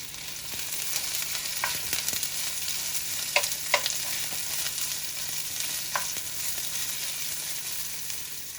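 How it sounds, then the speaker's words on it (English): Onions sauté in vegetable oil in a pan over medium heat for chicken tinga, a soft steady sizzle with a few faint utensil clicks and stirs, quiet and without talking. "you just want to saute the onions until they're nice and soft and translucent"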